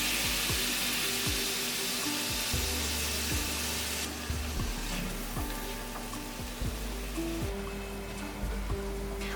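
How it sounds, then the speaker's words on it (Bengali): Ground cumin, coriander and chili powder sauté with a little water in a pan, giving a continuous soft bubbling sizzle at moderate level with a faint steady hum underneath and no talking. "সামান্য জল দিয়ে এবার মশলাগুলো ভালো করে কষিয়ে নেব।"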